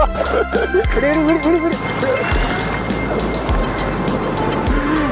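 Sea waves surge and crash on a beach during fishing, a steady, close washing roar with heavy rumbling thuds, mixed with voices and wind.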